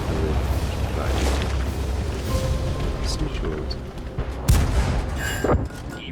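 Artillery fire in a tank video game comes as scattered dull booms and sharp cracks, with a couple of stronger blasts near the end, over a rumbling background.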